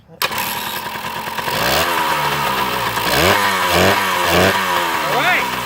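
A Kawasaki KM100 motorcycle engine starts for the first time: after a sharp initial kick it catches and runs loud and close, with repeated revving surges rising and falling, and some talk over it.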